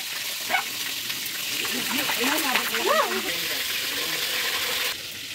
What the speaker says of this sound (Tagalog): Tapos Marilyn nagpiprito eh.